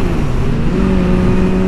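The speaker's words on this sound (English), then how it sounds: "I think that was a Gallardo" Lamborghini Gallardo driving past on a highway, a loud steady engine roar close by, without speech.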